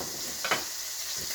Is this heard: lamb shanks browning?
yes